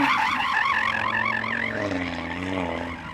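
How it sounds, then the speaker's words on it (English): An Audi warms its tyres at a drag race, with a wavering, warbling tyre squeal layered over a steady engine drone that slowly fades as the car slides. "Go on then, Audi, warm up your tyres and try to slide if you can."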